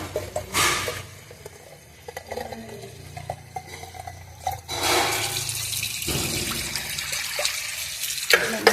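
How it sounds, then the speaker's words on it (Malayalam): Tap water splashes into a home fish tank being refilled during a water change, running in uneven bursts with gushing stretches and quieter pauses, close and moderately loud, with no talk over it. "ഇതിലേക്ക് വെള്ളം നിറക്കാം."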